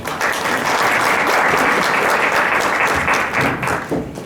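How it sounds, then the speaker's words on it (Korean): Loud, steady applause from a lecture audience welcoming a guest speaker, with many hands clapping densely throughout before it starts to thin out at the very end. "큰 박수로 박사님 모셔보겠습니다"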